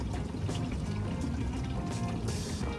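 Liquid pesticide pours into a container for spraying a gram crop, making a steady close splashing trickle that runs throughout.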